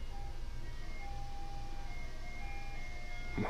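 A faint ice cream truck jingle drifts in from a distance, thin repeating melodic tones over a low background hum during garage car work, ending with a brief clatter nearby.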